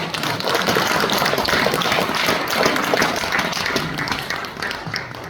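Audience at a national prayer gathering applauding, a dense wash of many hands clapping at once, loud and sustained before tapering slightly at the end.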